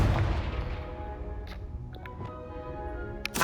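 Fiery Confringo blast spells in Hogwarts Legacy on PS5, a loud booming burst at the start that fades into a rumbling tail, with a few sharp crackling impacts trailing after.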